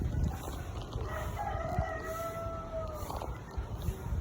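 A chicken calls out in a drawn, wavering cry, moderately distant, over outdoor background noise and scattered rustling.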